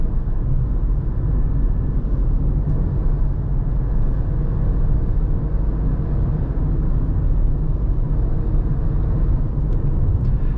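Fiat Argo Drive 1.0 three-cylinder 2020 engine gives a steady, deep rumble while driving through the city, heard from inside the cabin with constant road noise and no talk.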